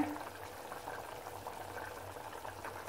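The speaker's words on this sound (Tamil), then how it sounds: "இந்த அளவுக்கு கொதிச்சா போதும், ஆஃப் பண்ணிடுவோம்." Tamarind chutney bubbles at a steady rolling boil in a pot on the stove, a continuous close simmering burble with no talking.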